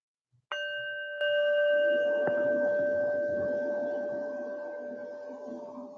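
A meditation bell is tapped a few times in quick succession, each strike adding to a bright, pure ringing tone that hangs and slowly fades, close and alone in stillness.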